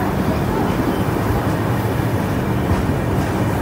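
Kandari Express passenger train running, heard from on board as a loud, continuous rumble and roar of the coaches with no pauses.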